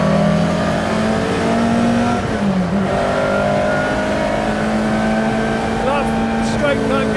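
Ford Escort Mk1 Twin Cam continuation car with a straight-cut gearbox, heard from on board as the engine drones loudly and steadily with a high gear whine running throughout, and a brief rise in revs near the end.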